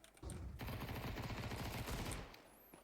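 Sustained automatic gunfire in Counter-Strike 2, a dense rapid burst lasting about two seconds, loud and near, then trailing into quiet.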